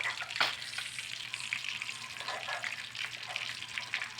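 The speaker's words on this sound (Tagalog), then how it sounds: "Baboy na giprito." Oil sizzles and crackles steadily close by as pork fries, with occasional louder pops and faint stirring.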